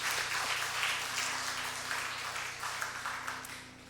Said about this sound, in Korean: 우리 학생들, 우리 또 SFC를 위해서 우리 큰 박수로 한번 우리 격려해 주시기 바랍니다